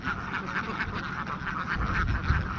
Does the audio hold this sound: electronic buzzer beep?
no